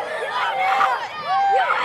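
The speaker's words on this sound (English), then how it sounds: "before a crowd of ecstatic elementary school students" Shrill, high-pitched cheering and screaming from a crowd of ecstatic elementary school students at a women's basketball game in an arena, loud and continuous with rising and falling squeals.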